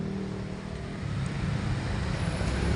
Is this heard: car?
yes